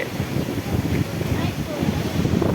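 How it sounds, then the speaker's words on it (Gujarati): A strong storm wind blows at night through a village during a thunderstorm with lightning, a steady loud rumbling roar buffeting the microphone throughout without letup. "કેટલો પવન છે મિત્રો તમે જોઈ શકો છો એટલી ભાઈ પવન ફૂંકાઈ રહ્યો છે"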